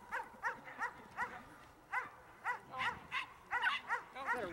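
A stressed dog on a walk gives repeated short, soft barks and whimpering yips in an uneven rhythm, fairly close but not loud, over low background noise.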